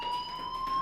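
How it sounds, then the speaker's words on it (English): School fire alarm ringing in the Life Is Strange video game, a steady piercing electronic tone holding without break over low background noise. "Hey, do you hear that fire alarm? That means you should be outside."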